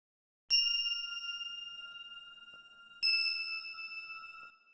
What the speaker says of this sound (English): They're a pretty bright bell